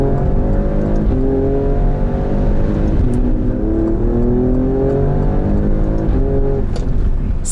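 Alfa Romeo Stelvio Quadrifoglio SUV with a 2.9-litre V6 biturbo of 510 hp accelerating hard to overtake on a road in Dubai, a loud, sustained engine roar rising through the revs heard from inside.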